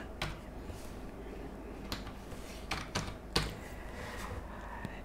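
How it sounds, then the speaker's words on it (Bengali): Typing on a computer keyboard, with sparse, fairly faint key clicks and a few sharper taps over a low room hum, no talk. "এখানে এসে আবার টাইপ করবেন CNX, এবারে মেটাল"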